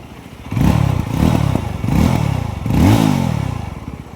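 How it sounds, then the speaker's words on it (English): A loud Yezdi Roadster motorcycle engine revs hard several times in quick succession, each rev rising and falling with a deep rumbling exhaust note with pops and bangs. "There are pops and bangs on the exhaust."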